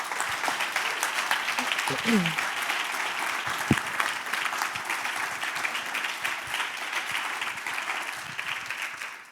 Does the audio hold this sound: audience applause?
yes